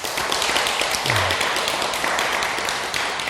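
An audience at a Buddhist dharma talk breaks into thick, steady applause, many hands clapping close and loud for the whole stretch with no pause.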